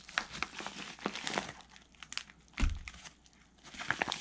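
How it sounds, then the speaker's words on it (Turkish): A yellow plastic AliExpress parcel holding metal fishing lures is torn and crinkled open by hand, giving close, quiet bursts of crackling plastic, rustling and tearing in irregular handfuls. "sıradaki paketimizi açalım bakalım. Bundan ne çıkacak? Yine meşhur sarı renkli AliExpress paketi."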